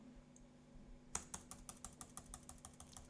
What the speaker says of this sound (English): Here we can start typing something.